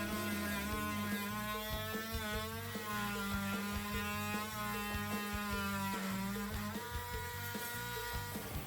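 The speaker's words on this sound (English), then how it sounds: "The best way to cut a material in a tight space is with an oscillating multi-tool." An oscillating multi-tool fitted with a WonderBlade cutting material in a tight space gives a loud, steady high-pitched buzzing drone with strong harmonic whine, running continuously throughout.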